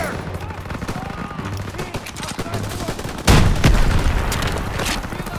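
Gunfire in a Call of Duty WW2 campaign battle, a rapid clatter of shots with a heavy boom halfway through, dense and continuous under shouted voices.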